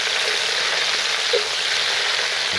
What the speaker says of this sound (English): That tomato juice just cooking away.